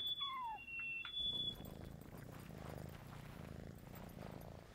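A cat in the video game Yonder: The Cloud Catcher Chronicles makes a short rising meow and whistle-like tones, followed by a soft, steady low purring rumble that continues alone.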